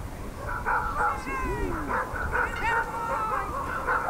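Sled dogs in a long-distance sled race across snowy country bark and yip in repeated bursts, with some whining cries, over steady running noise and a voice speaking.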